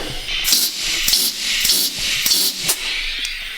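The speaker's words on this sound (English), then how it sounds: "Spray some WD-40 through all the lines." WD-40 sprayed through the nozzle lines of a 410 sprint car engine gives repeated hissing aerosol bursts, about five or six short close sprays in a broken rhythm.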